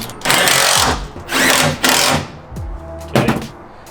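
A power tool drives a fastener into the composite bed of a Toyota Tacoma pickup during a bed stiffener install, with three or four short, loud whirring bursts separated by brief pauses.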